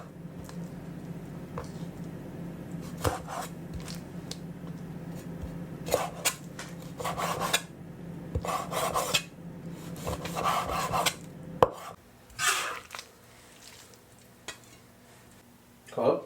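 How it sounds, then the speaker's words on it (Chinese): A knife trims cartilage from raw chicken in a home kitchen, giving soft intermittent scraping and cutting strokes in short bursts with pauses between, quiet and close. "鸡肉会有这个软骨部分我们把它修掉"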